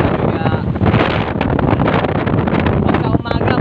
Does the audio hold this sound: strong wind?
yes